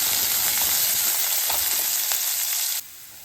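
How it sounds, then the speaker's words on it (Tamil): Long-sliced onions sauté in a pan with a steady, dense sizzle and a few soft stirring scrapes, the sound cutting off abruptly near the end. "நீல வாக்கில் வெட்டின வெங்காயத்தை நல்லா வதங்கட்டு காட்டுறேன்."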